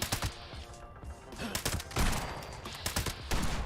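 Rapid volleys of gunfire in the video game Fallout 76 crackle in dense bursts, with brief pauses between strings of shots and a steady run of firing through most of the stretch.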